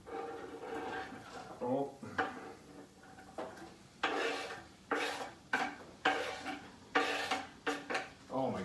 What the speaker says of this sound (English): Now, let's dump in all of these onions.